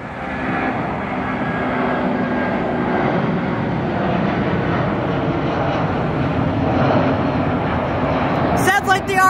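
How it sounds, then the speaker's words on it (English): Steady, loud roar of a Rolls-Royce RB211 jet airliner engine, a broad rumbling hiss with faint whining tones, holding constant throughout. "Sounds like the RB211. One of the best engines like ever made."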